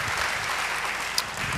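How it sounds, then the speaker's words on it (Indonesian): Church congregation applauding during a service, a steady, full wash of clapping from many hands that carries on evenly for a moment, with one sharp louder clap standing out near the end. "beri tepuk tangan yang baik buat dia"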